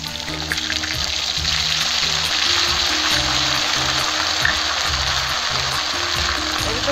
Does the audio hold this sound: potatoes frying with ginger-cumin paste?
yes